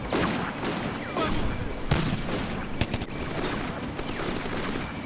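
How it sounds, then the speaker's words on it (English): Gunfire in the WWII strategy game Combat Mission: Afrika Korps, irregular cracks of rifle and machine-gun fire over a rumbling battlefield backdrop, with sharper shots standing out near the middle. "Yeah, I think it's a guy behind him that's shooting."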